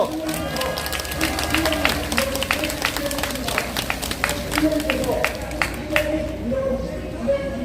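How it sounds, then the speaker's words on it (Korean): An outdoor crowd at a weekly Wednesday rally claps steadily, with distinct claps over a low hum of murmuring voices and background noise, fading near the end. "힘찬 박수로 모시겠습니다"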